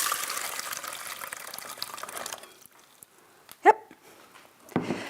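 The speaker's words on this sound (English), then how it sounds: "I'm going to add 3 cups of water. So I'm just going to pour in." Water pours steadily into a pot of brown rice for about two seconds, then stops. A dog barks sharply once in the quiet that follows, and a louder clatter comes near the end.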